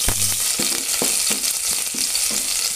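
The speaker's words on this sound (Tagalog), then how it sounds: "Mainit ng ating mantika, ilagay na natin ang ating hiniwa na bawang at sibuyas." Sliced garlic and onion dropped into hot oil for pinakbet, a bright steady sizzle with regular scraping strokes of a spatula roughly every half second, close and loud, no voices.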